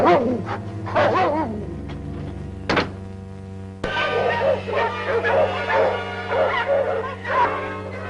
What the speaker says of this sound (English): You hear those dogs?